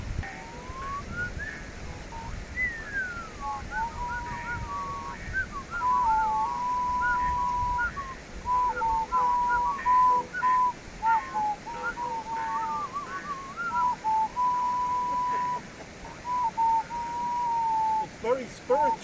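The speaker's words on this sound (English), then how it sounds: "Try the penny whistle." Someone tries out a penny whistle at a wild camp, playing a wavering, breathy tune of held notes and little slides, close by, while people talk over and around the melody.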